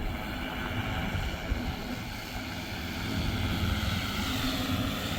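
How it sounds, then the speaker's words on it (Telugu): Steady droning whir of an agricultural spraying drone's rotors flying under 33 kV power lines, a constant buzzing hum that grows slightly louder toward the end. "చూడండి డ్రోన్ ఏ విధంగా వస్తుంది మనది"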